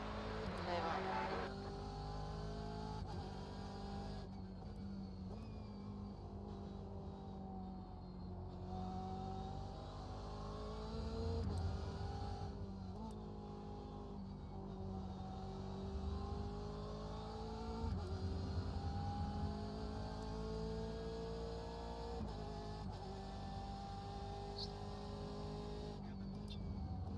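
Race car engines in the iRacing sim roar continuously at high revs, pitch rising and falling through gear changes and corners, several cars close together, with faint talk over it.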